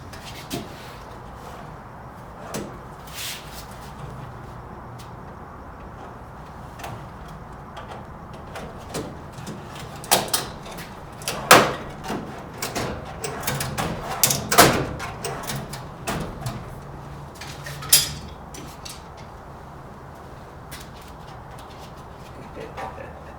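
A screwdriver drawer insert is set into a tool chest, giving scattered knocks and clunks of handling, with a few sharper, louder thuds in the middle as it drops into place, all nearby.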